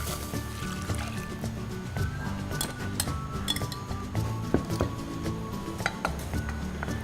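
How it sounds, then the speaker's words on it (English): Custard's egg mixture pours back into a pan during vanilla custard making, with soft liquid sloshing and scattered light clinks of metal and glass throughout, moderately quiet and close. "Now you can transfer the mixture back into the pan."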